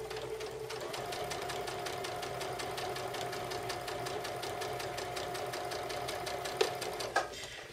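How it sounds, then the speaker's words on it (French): A sewing machine stitching a quilt, with a fast, even needle chatter over a steady motor hum, close and moderately quiet, ending with a couple of small knocks. "On peut prendre notre pic à dents pour aller juste en dessous, s'assurer que rien ne bouge et on continue à faire la couture."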